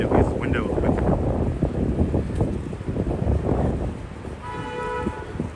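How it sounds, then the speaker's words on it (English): A car horn blares near the end in a sustained tonal honk at a red light on a windy Brooklyn street, following gusty wind buffeting the microphone and traffic noise. "he's the one honking the horn at a red light"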